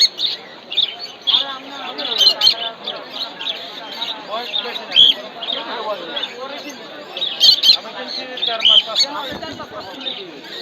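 Cockatiels chirp at a crowded Mirpur bird market in Dhaka, with dense overlapping shrill calls and tweets near and far, while people talk throughout.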